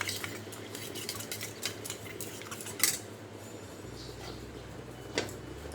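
A spoon clinks and scrapes against a small bowl, stirring rice flour and water into a slurry for an Assamese boiled fish curry, with soft irregular taps and a couple of sharper knocks in a quiet kitchen.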